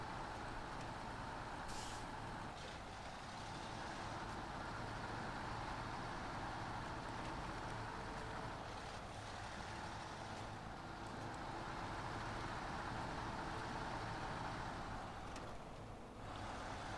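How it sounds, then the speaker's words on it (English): A truck engine idles steadily in the SnowRunner video game, a dense, continuous low rumble with a hissing top end that stays loud and even throughout, with no voices present. "Let's turn off the engine."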